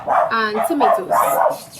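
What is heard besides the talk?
neighbor's dog barking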